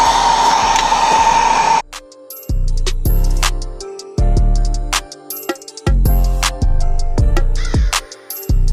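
A heat gun blows on tint film stretched over a car tail light, starting with a steady airy rush that then breaks into repeated on-off bursts with a droning motor hum.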